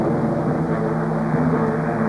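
American transport helicopters fly overhead, producing a steady, loud, droning engine and rotor hum that holds level throughout without any talk.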